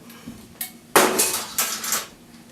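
Cooked ingredients scraped and dropped into a skillet holding shallots, a few sharp metallic clanks and scrapes of utensil on pan, near and fairly loud.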